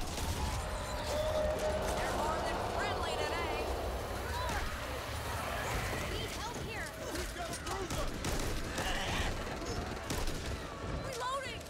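Dense bursts of gunfire in the co-op zombie shooter Back 4 Blood, sustained and loud throughout, with overlapping shots and impacts while a player talks over the action.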